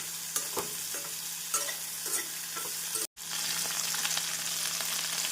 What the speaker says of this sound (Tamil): வெங்காயம் ஒரு நிமிடம் வதக்கிய பின்